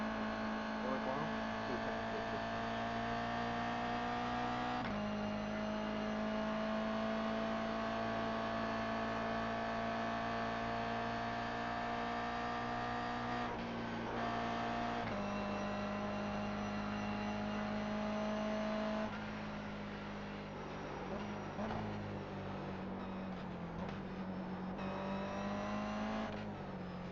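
Race car at Bathurst powering out of the Cutting toward Quarry corner, its engine a loud, continuous close drone whose pitch climbs and drops at gear changes.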